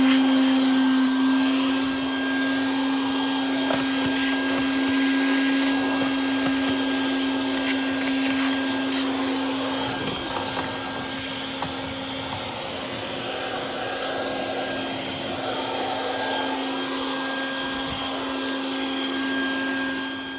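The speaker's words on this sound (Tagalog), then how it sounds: "so guys, vacuum na tayo." A vacuum cleaner runs continuously while cleaning a car interior during a DIY car wash, a loud steady motor whine with a constant drone and shifting suction noise as the nozzle moves around.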